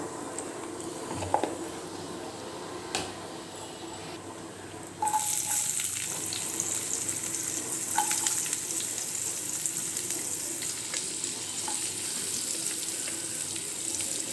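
Torn chilli chapathi pieces and green chillies sauté in a pan with a soft, constant sizzle that swells louder midway and holds steady, close by, without talk.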